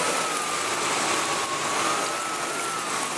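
A Sebo Felix upright vacuum cleaner runs with a loud, steady airy whoosh and a constant motor whine, close by and unbroken, with no voices.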